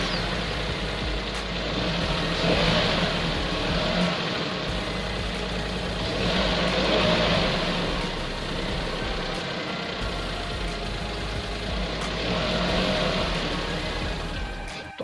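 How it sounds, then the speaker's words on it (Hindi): A 2018 Suzuki Wagon R VXL engine idles steadily after being started, a continuous low hum with a few slight swells in level, heard from inside the car with no talking. "इस गाड़ी को जो स्टार्ट करने के बाद जो है इसका इंजन साउंड कैसा है"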